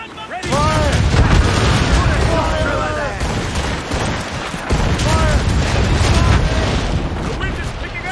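Ship cannons firing during a naval battle in Assassin's Creed Rogue: loud, dense booming volleys and rolling gunfire fill the scene almost continuously, with shouted voices of the crew over the din.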